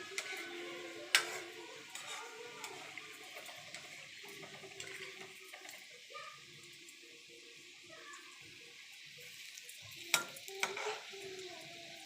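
Modak shallow frying in oil, a quiet continuous sizzle with occasional stirring clinks and sharper utensil taps, fairly faint and close.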